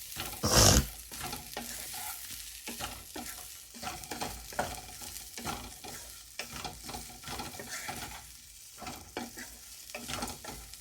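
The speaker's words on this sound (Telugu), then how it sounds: "కొంచెం ఫ్రై అవ్వనివ్వాలి అప్పుడు ఇడ్లీకి కొంచెం మసాలా పట్టిద్ది" Cut idli pieces fry with masala in a pan with only a little oil. A spatula scrapes and tosses them in steady repeated strokes over a quiet sizzle, with one loud clatter near the start and no speech.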